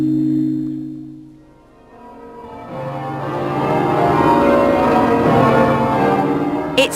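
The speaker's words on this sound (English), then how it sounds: "the bells are finally doing what they do best. Ringing!" Church bells in Southwark ring out on a late February day, a full sustained peal of overlapping tones that fades briefly, then builds and rings on steadily and loudly, alone with no talk.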